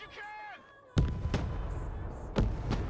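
Mech rifles firing in the Broken Arrow strategy game: sharp, loud reports crack out at about one-second intervals, each trailing into a rumbling battle din, with a voice talking briefly just before the shots.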